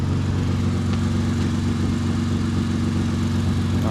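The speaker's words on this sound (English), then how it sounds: "Sounds like a little bit of exhaust leak underneath there" Aftermarket exhaust on a Lexus IS350, engine idling with a steady low rumble and faint ticking from a slight exhaust leak underneath, close by with no talk.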